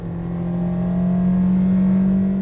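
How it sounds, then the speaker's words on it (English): Toyota Yaris engine straining under acceleration, heard from inside the cabin as a loud, steady droning hum with a strong low tone that holds throughout, with no talk. "The engine works really hard to pull the Yaris around, making its loud engine noise very apparent throughout the cabin."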